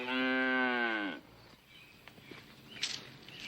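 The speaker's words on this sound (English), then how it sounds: "What do I know about milking a cow?" A cow lets out a single loud, drawn-out moo lasting about a second, close by, followed by quieter farmyard rustling and faint movement sounds.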